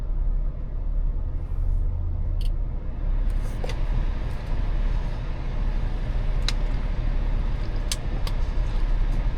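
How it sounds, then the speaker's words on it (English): Steady low hum of air conditioning running inside the cabin of a 2026 Honda Passport Trailsport, a constant blowing drone with a few faint clicks, no talk. "And that noise you hear is the AC."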